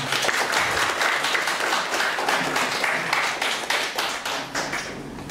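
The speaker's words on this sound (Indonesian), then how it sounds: "Bapak Ibu boleh berikan tepuk tangan" Lively clapping from an audience at a farewell and welcome ceremony, with distinct individual claps in a brisk, uneven rhythm, fairly close and steady before easing off at the end.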